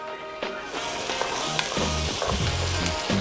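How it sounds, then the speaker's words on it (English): Steady sizzling of onions frying in a pan, a continuous crackling hiss with occasional stirring clatter and scrapes. "our onions have been frying for 2 to 3 minutes"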